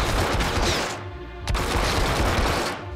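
Rapid bursts of gunfire in the Hitman Absolution video game, an enemy shooting through walls, fill the stretch as a dense, loud fusillade, with one sharp crack standing out midway.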